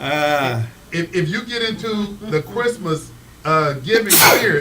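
A single sharp sneeze bursts out at the end of casual conversation, close and loud, following several seconds of people talking.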